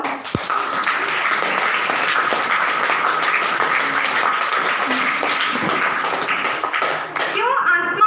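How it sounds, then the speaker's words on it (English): Sustained applause from an audience at a National Science Day event, steady and fairly loud throughout, with voices mixed into the clapping. "give them a big round of applause"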